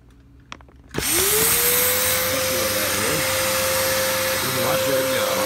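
A vacuum device is switched on with a sharp thump, then its motor spins up into a loud, steady whine and roar that runs continuously close by.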